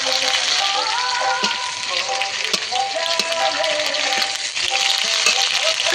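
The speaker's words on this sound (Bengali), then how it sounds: "পেঁয়াজটাকে আমি একটু লাল করে ভেজে নেব।" Onions frying and sizzling in a pan with a ground ginger-cumin paste for a ridge gourd and masoor dal dish, a steady dense crackle with occasional stirring clicks, close and loud throughout.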